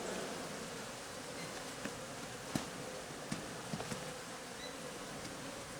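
Honey bees from disturbed, aggressive hives hum in a continuous buzzing swarm during beekeeping, a steady low drone with a few sharper close passes as individual bees fly near.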